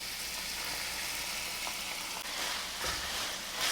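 Bean sprouts stirred into a hot pan with fish sauce and salt for a Lao salad roll filling, a continuous close sizzle with a few soft scrapes and clacks of the utensil, no talk.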